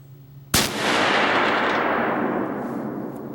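Muzzleloader rifle firing a 300 grain bullet at a 300-yard range, one sharp loud crack followed by a long rolling echo that slowly fades over several seconds.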